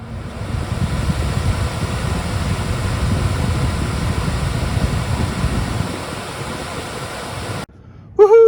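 A furnace blower motor runs steadily on test fire after replacement of the faulty unit, a loud broadband whoosh and hum that holds for most of the clip before cutting off abruptly, followed by a brief tonal squeal.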